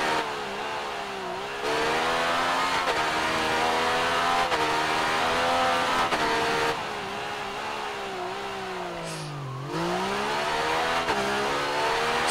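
In the Ride 3 racing game, a Yamaha motorcycle engine screams at high revs, rising through gears, dropping on shifts and braking, then climbing again, loud and steady throughout.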